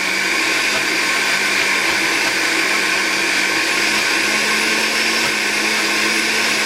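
A blender purees cooked food for a slow-cooked pork belly dish, running as a loud, steady, high-pitched motor whine without pause, close and alone with no talking.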